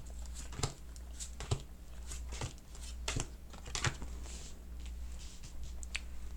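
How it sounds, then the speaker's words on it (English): Tarot cards laid down one after another on a sapphire sandstone surface, giving soft, quiet taps and clicks at an irregular pace over a steady low hum. "So we're gonna just pop some cards down here."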